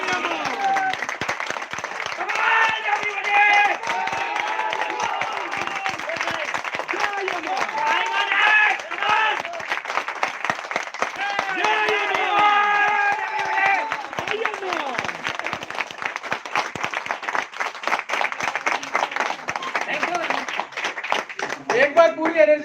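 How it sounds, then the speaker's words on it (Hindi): Meeting audience applauding throughout, dense clapping filling the room with a loud shouting host talking over it and crowd noise around. "भाई जोरदार तालियां तो बजवाओ एक बार"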